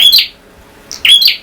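A prenjak (prinia) songbird chirps loudly and close by, giving two short bursts of high, sharp notes with a brief pause between them.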